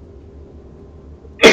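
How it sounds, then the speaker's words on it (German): A single sharp cough from a man who is just getting over an illness, loud and close, bursting out at the very end after quiet background hum. "Entschuldigung, muss ein bisschen öfter husten."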